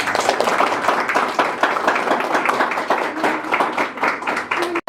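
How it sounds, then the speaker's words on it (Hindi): An audience at a blind welfare association award function claps together, brisk, close applause from a modest crowd that holds steady and then stops abruptly at the end. "तो इनके लिए आप सब मिलके एक बार जोर से ताली बजा दें।"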